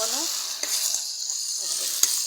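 Sliced bitter gourd fries in a pan with a continuous bright sizzle, with a couple of quick utensil taps as it is stirred, close and fairly loud.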